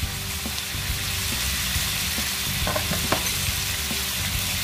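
Asparagus and shrimp stir-fry with fish sauce in a hot pan, giving a loud, dense, steady sizzle broken by sharp clacks of a utensil stirring and scraping.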